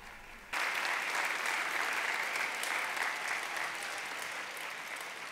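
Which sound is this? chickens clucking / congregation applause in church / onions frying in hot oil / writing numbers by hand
congregation applause in church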